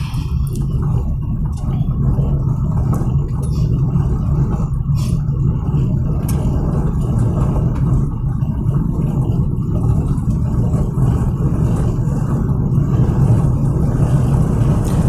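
Steady low rumble of a car engine running at a constant pace in fourth gear, with continuous road noise and no talking.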